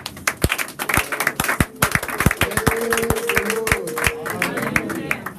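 A church congregation claps and cheers to acclaim the Lord Jesus as an apostle is called forward, irregular close handclaps building into a dense burst with voices rising underneath.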